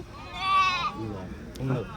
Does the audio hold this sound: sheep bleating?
yes